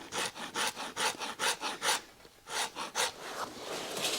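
A flat file rasps back and forth across the stacked leather layers of a shoe heel, giving a close, steady series of about a dozen rhythmic rubbing strokes with brief pauses between them and no talk.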